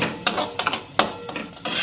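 Fried semolina being stirred with ghee in a pan, a few sharp metallic scrapes and clinks of a spoon against the pan in quick irregular succession, close and alone.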